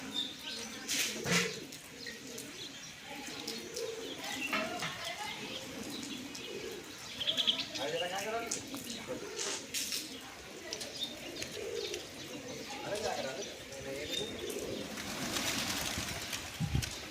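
Pigeons at a home after monsoon rain, gentle cooing mixed with wing flaps and scattered chirps, close and fairly quiet, with occasional thumps and faint background sounds.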